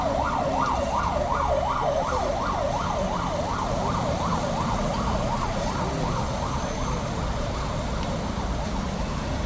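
Sirens from the chief minister Bhupendrabhai Patel's security convoy passing through a village road, a rapid rising-and-falling wail over rumbling vehicle noise, loud and steady before fading slightly.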